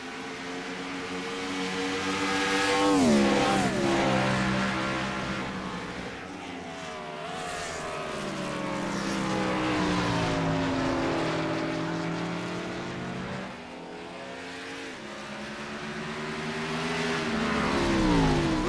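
Race car engines in the iRacing simulation at Aero Racing Design 124km, a loud continuous engine roar with repeated revving rises and falls as cars accelerate and shift, several cars layered together, no voices.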